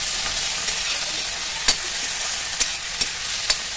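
Finely chopped tomatoes and onions fry in a pan with a loud, dense, steady sizzle, punctuated by a few sharp stirring scrapes near the end.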